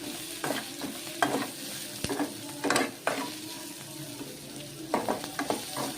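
Onions frying with curry leaves and salt, stirred in a pan: a soft continuous sizzle broken by bursts of spatula scraping and tapping at irregular intervals, close by.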